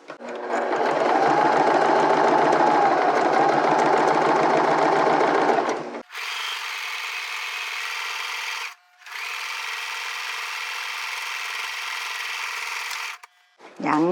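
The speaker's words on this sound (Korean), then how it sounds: "이렇게 해서 일단은 재봉틀을 해보겠습니다. 일단 옆에를 먼저 박을게요." A sewing machine stitches the side seams of a fabric tote bag in fast steady bursts, a long run then two shorter ones with brief pauses, close and loud.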